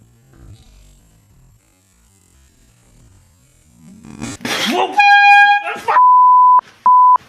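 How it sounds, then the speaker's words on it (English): An air horn blasts loudly twice, a long blare then a short one, after rustling and a clattering burst. "This is a air horn."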